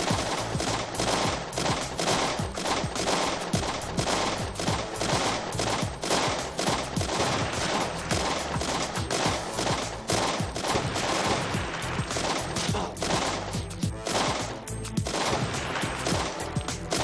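Sustained, dense gunfire from sniper posts and RPGs in the mobile strategy game Gang Nations, with rapid overlapping shots and blasts filling the whole stretch at a steady, loud level.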